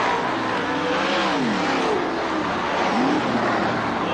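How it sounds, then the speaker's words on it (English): CRA sprint race cars circle the track in a 1991 heat race, a loud continuous engine drone with rising and falling whines as cars pass, steady from start to end. "Hangs on the inside, wide flag, 1 more lap for Mike Frost."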